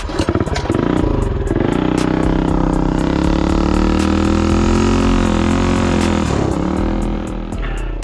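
A minibike engine starts and revs up loud and close, then holds a steady buzzing drone as it pulls out of the pit lane onto a race track, with light clatter and no talk.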